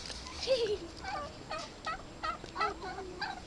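Two pairs of turkeys at a backyard house party in Dasmariñas, gobbling in a series of rapid warbling bursts, repeated every half second or so at moderate distance, with a brief voice near the start.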